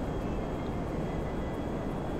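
A jet flying low in Grand Theft Auto V gives a steady, dense roar, loud and unbroken for the whole stretch, with no talk over it.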